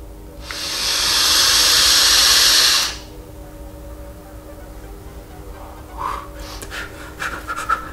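A long, loud exhale of vapor from a VooPoo U-Force vape, a steady breathy hiss of about two and a half seconds that cuts off sharply, followed by faint clicks and small rustling sounds.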